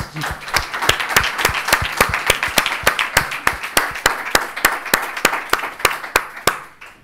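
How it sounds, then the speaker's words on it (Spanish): A small audience at a textile-sector session of a circular economy summit claps for the guests, with distinct, fairly sparse hand claps in an even rhythm, close and clear, continuing for several seconds. "un gran aplauso para nuestros invitados"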